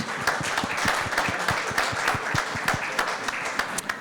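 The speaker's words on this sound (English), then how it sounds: "I think we should give everybody that is still standing a bit of a clap" A smaller audience at a university diet and diabetes talk claps for people still standing, distinct individual hand claps at a lively, uneven pace, close and crisp, continuing steadily throughout.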